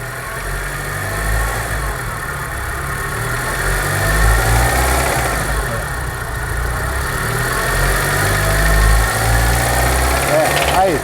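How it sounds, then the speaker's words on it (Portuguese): A car engine with a knocking fault revs up during a mechanic's diagnosis, a loud rough mechanical drone that rises and swells with the throttle, rattling and vibrating throughout. "Dá uma aceleradinha, Nard."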